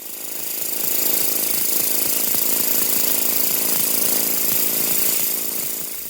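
A pneumatic air hammer makes loud, continuous mechanical hammering with a rapid buzzing rattle, running steadily for several seconds before easing off at the end.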